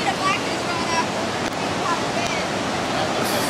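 Floodwater rushing during the Nashville flood, heard from about 50 feet from the water's edge: a steady, loud, broadband roar of moving water, with wind buffeting the microphone, continuous for the whole stretch.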